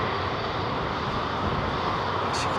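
An airliner with Rolls-Royce Trent engines takes off at London Heathrow, giving a loud, close, unbroken broadband engine roar throughout.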